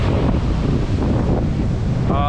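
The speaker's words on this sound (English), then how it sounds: "I think the wind's dropped to about 18 now." Strong wind buffets the microphone over the sea during an early-evening fishing outing on the water, with waves rushing underneath. The roar is loud and constant throughout.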